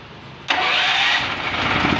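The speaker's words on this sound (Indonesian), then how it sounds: "Sekarang kita tes hidup bos, starter." A Starke GFH8900E 5500-watt gas generator starts abruptly after a short quiet lead-in, then settles into a steady, loud running drone close by.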